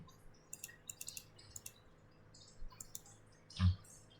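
Computer mouse clicking while adjusting a rotation angle in software, several quiet, sparse clicks spread out in a near-silent room, with one slightly louder knock near the end.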